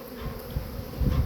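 A honeybee swarm hangs on a tree branch, giving off a steady, dense close-up buzz of many bees, with wing fanning swelling slightly louder near the end.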